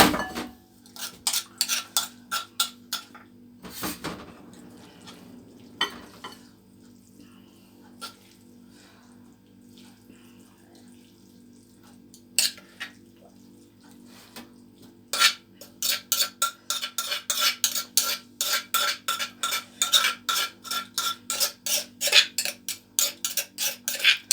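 Repeated rapid scraping and clinking in a mortar holding sesame seeds and herbs, in bursts separated by quieter pauses, close by and fairly busy toward the end.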